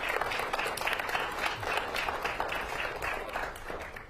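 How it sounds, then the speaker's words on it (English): A seated audience at a panel event on a gubernatorial election gives a round of applause. Dense, even clapping fills the whole stretch at a steady moderate level, with no pause or break. "Can we give them a round of applause?"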